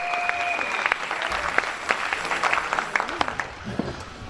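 A church congregation applauds in acclaim of the Lord during a French-language worship service, a dense, steady clapping crowd filling the space for several seconds with a few voices calling out over it.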